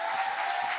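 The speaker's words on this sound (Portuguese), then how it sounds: "será que a gente pode dar uma salva de palmas para os pastores dessa casa?" Church conference audience applauding the pastors, a steady wash of dense clapping filling the whole moment at moderate volume.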